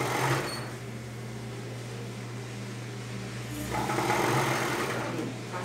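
Sewing machine stitching bias binding on a bra, a close, steady motor whir with a low hum that runs continuously and rises slightly near the end.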